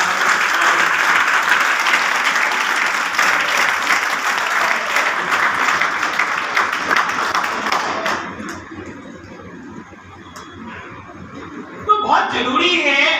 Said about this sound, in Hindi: तो एक बार जोरदार तालियां हो जाए खाटू श्याम के लिए